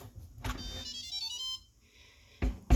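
An Instant Pot Duo Crisp pressure cooker and air fryer gives a short electronic beep tone, with a brief ringing chime near the start, a soft mid-pitched tone partway through, and a couple of faint clicks.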